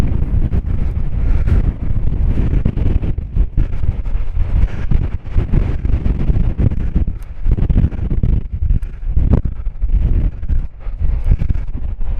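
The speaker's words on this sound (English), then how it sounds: "the wind is definitely picking up now" A strong gale on the Paphos seafront buffets the microphone with loud, constant low roaring and gusty rumbles, and faint surf sounds lie underneath. No voices are heard.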